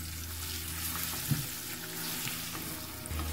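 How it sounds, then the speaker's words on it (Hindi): Potato pieces seasoned with chaat masala frying in a pan over a medium flame, a steady soft sizzle with faint crackles throughout, fairly quiet and close, with a small clink of a utensil partway through. "मीडियम फ्लेम पे इसको अच्छी तरह हम फ्राई कर लेंगे, थोड़ा ब्राउन हो जाएगा।"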